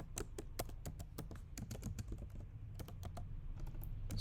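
Fingers typing JavaScript code on a computer keyboard, a close, quiet run of quick irregular key clicks with brief pauses between bursts.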